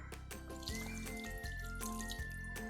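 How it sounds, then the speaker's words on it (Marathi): Water pours steadily into a metal pan for cooking half-dried bombil fish, a continuous splashing flow with a faint ringing tone, close by and without talk. "आत थोडासा पाणी टाकते"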